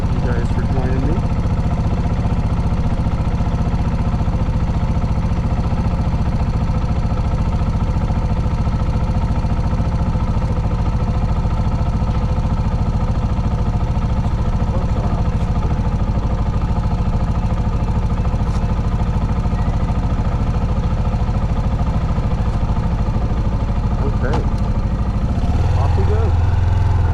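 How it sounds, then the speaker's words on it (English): Suzuki TU250X motorcycle engine running steadily on a neighborhood ride, a continuous mid-pitched thrum with a faint clatter, loud and close throughout, with a slight change in tone near the end. "Bike sounds great."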